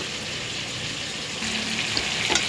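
Tomato, ginger and garlic paste frying in a pan, a continuous dense sizzle that swells near the end with a few light scraping stirs, heard close up with no talking.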